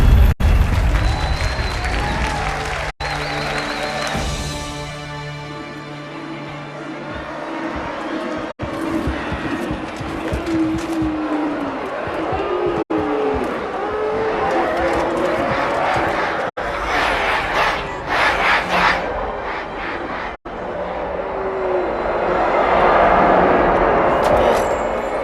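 Large crowd from a Halo series scene cheering and applauding, a loud sustained roar with rising swells and bursts, mixed with background music and effects.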